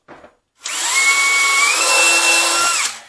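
After a brief faint noise, a power drill whirs steadily for a couple of seconds, loud and close, its pitch holding as it bores through wood.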